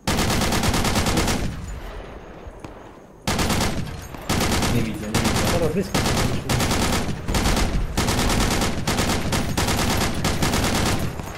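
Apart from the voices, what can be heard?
gunfire in the video game Project Reality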